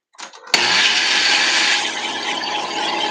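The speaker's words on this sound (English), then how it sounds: "I was just blending my roasted garlic with a little turmeric." Kitchen blender blending roasted garlic with a little turmeric: a few short handling knocks, then the motor snaps on loud and close, whirring at a steady high pitch before easing slightly lower for the rest.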